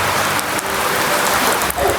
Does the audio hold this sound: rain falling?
yes